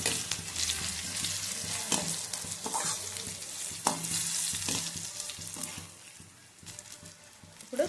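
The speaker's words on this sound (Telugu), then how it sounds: "ఇప్పుడు ఇందులో కొంచెం పసుపు, వేసుకొని బాగా కలుపుకోవాలి." Turmeric is stirred into a sizzling oil tempering for a sorghum-flake dish. A steady frying hiss runs throughout, with repeated scraping strokes of the spoon against the pan. No one speaks.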